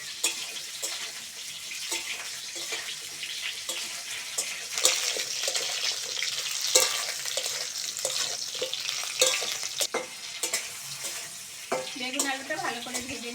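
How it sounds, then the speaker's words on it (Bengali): Eggplant and potato pieces fry in plenty of oil while being stirred, a steady crackling sizzle with repeated scraping clinks of the spatula against the pan, close and continuous throughout. "বেগুন আলুটা ভালো করে ভেজে নিয়েছি"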